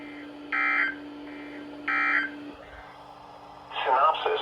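Weather radio test of the warning alarm and EAS signal: two short bursts of a harsh buzzing data tone over a steady single-pitch hum, then the hum cuts off and a voice starts talking.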